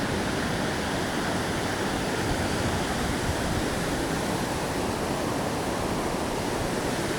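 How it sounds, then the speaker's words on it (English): Water rushing over a river spillway, a steady, loud, broadband roar with no breaks, close and continuous. "This is the spillway."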